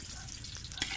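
Chicken feet for adobo cook in a pan with a close, continuous sizzle and a single brief stir scrape near the end, all within about a second.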